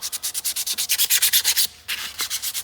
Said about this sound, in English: I'm gonna clean this up just a little bit, just some real fine sandpaper